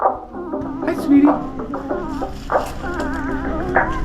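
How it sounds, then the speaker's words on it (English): A dog whimpers and lets out short yips and barks close by outdoors, a high wavering whine running through the clip, with a person speaking at the same time. "The welder's dog come over."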